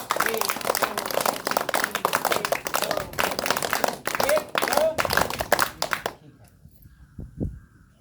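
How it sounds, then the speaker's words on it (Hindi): A group of children claps hands together in a dense burst of quick, uneven claps for about six seconds, with an adult voice talking over them, then the clapping stops and it goes nearly quiet. "हाँ बच्चों पहले ताली बजानी है"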